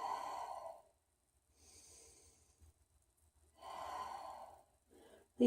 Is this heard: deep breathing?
yes